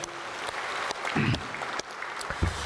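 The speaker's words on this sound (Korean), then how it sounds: "여러분 박수 한번 해드릴까요?" A church congregation claps for a poet during a sermon, a fairly even wash of applause from a room of people, with a brief low voice or murmur rising partway through.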